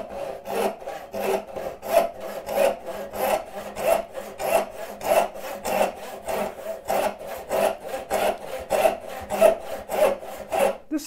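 A hand saw cutting through wood for a half lap joint, steady rhythmic push-and-pull strokes rasping close and clear, about two strokes a second, with no talk over them.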